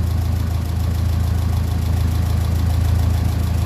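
A 1957 Ferguson 35 tractor with a TVO engine idles steadily at about 850 rpm, a close, continuous low throbbing chug with an even rhythm and no voices over it.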